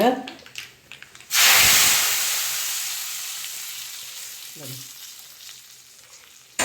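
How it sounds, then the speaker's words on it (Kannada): Hot tempering is poured into an okra and drumstick sambar and bursts into a loud sizzle that slowly fades to a steady hiss, with a brief voice before it. "ಈಗ ಇದನ್ನೇನು ಒಗ್ಗರಣೆ ಕೊರ್ಪುಜಿ"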